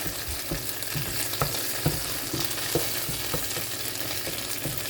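Vodka bubbling and sizzling in a hot pan while making a lazy vodka sauce, a steady close fizzing hiss broken by regular soft clicks and taps, with no voices.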